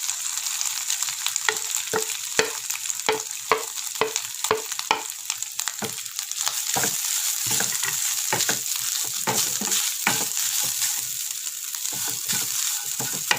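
Grated coconut frying with cashews in a pan over low flame, a steady bright sizzle broken by regular scraping and stirring taps from a spoon, close up and continuous with no talking.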